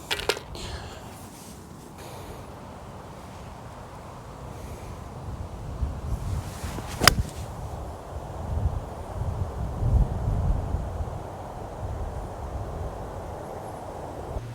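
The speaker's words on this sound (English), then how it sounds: "it is quite windy" Gusty wind sweeps across an open golf course, buffeting the microphone with a steady low roar that swells in stronger gusts near the middle and end, with no one speaking.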